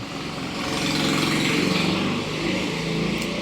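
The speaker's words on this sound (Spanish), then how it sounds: "una moto justo pasando ahora por la calle" A small engine drones steadily nearby, its buzzy rattle swelling slightly and then holding, like a motorcycle moving along a street in Santa Monica.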